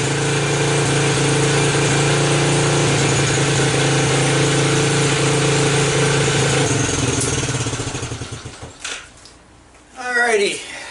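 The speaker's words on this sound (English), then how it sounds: "These little 4 cycles, they rev pretty high." A small four-stroke ATV engine runs loud and steady at high revs for most of the stretch, then drops off and settles before a brief rev near the end, with a voice talking.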